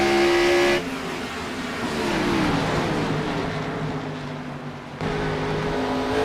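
In a racing video game, stock cars race past a camera mounted against the wall, loud engine howls rising and falling as they pass close, with a sudden jump in volume as another car arrives.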